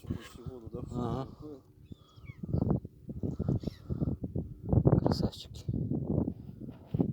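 Seagull cries and squawks from several birds mixed with close, lively chatter from people nearby.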